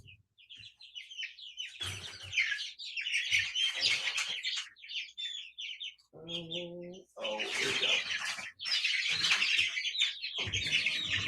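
A hen with feathered feet being handled gives loud, close clucks and squawky calls in bursts over several seconds, with a person speaking briefly among them.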